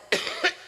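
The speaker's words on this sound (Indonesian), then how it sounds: "Batuk." Three short, harsh coughs from one person come in quick succession close to the mic, the first the strongest and the last clipped short.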